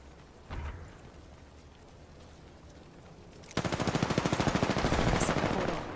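Apex Legends gunfire: a single loud shot, then a sustained rapid burst of automatic fire with a fast, even rhythm that lasts several seconds, close and loud.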